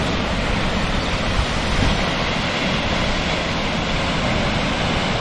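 A steady, dense roar of falling water from Macmac Falls, South Africa, fills the air, constant and loud with no pauses or voices.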